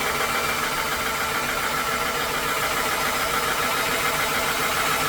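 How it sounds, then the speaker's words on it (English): A Spritech 4500 PSI PCP air compressor runs with a loud, steady mechanical drone and hum that holds at an even level throughout, with no breaks and no voices. "Now what you got to do, turn on our compressor."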